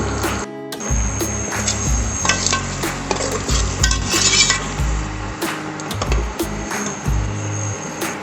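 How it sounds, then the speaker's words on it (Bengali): Ginger fries in a pan for a dhaba-style mutton curry, with a steady sizzle broken by repeated clinks and scrapes of a spatula against the pan, close and fairly loud. "আদার কাঁচা গন্ধটা না যাওয়া পর্যন্ত ততক্ষণ আমি একটু ভেজে নেব।"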